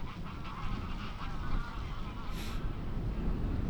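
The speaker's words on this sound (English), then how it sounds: "the birds are not really liking the disc golf players" Geese honking near a disc golf course during a women's pro tournament in Andalucia, a brief sharp call rising above steady wind noise and low rumble, with faint voices in the background.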